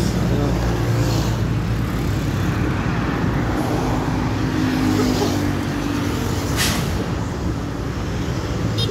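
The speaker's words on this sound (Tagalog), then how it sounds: "Highway na to" Highway traffic heard from the roadside, a loud continuous road roar with vehicles passing close by, and a voice talking over it.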